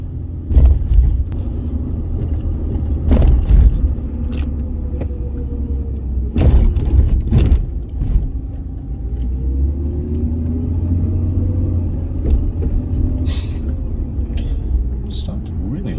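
A Jaguar X300 saloon drives on the road with a steady low engine and tyre rumble, some thumps and clunks from the cabin, and faint voices.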